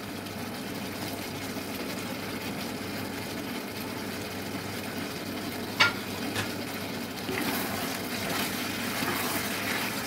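Pre-fried chicken pieces added to a pan for chicken manchurian, giving a steady, dense sizzle that runs throughout, with a brief clatter partway through and slightly brighter frying near the end.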